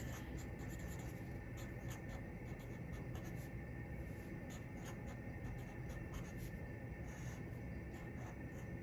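A Sharpie marker drawing over a pencil sketch for a ceramics coil pot, a faint continuous scratchy stroking under a steady room hiss.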